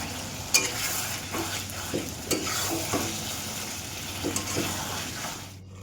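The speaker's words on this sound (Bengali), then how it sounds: "সুন্দর করে ডেকে ডেকে কষিয়ে নিয়েছি। এবার আলুটা দিয়ে দিলাম, একটা গোটা রসুনও দিয়েছি।" Mutton curry with potatoes and a whole garlic bulb frying in a pan, with a soft continuous sizzle broken by repeated scraping stirs of a utensil, close up and without speech.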